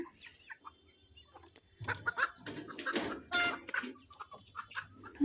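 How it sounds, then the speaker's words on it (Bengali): Free-range native chickens on a small village poultry farm cluck in short bursts close by, several birds overlapping in irregular calls against a quiet background. "দেখেন কত ছোট পরিমাণে মুরগি তাও কিন্তু ওরা এখনই মিট করতে চাচ্ছে"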